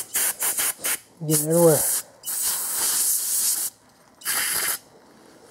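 Brake cleaner is sprayed from an aerosol can onto engine parts in repeated hissing bursts, several short squirts followed by longer sprays, close and fairly loud, with a brief spoken phrase in between.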